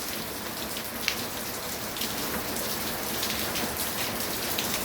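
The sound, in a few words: rain falling on flat solar panel roofs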